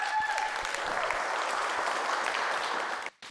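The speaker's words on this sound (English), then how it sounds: "A round of applause, please, to Lucy English." An audience at a literary festival party night applauds warmly, a dense sustained clapping that fills the room before cutting off abruptly near the end.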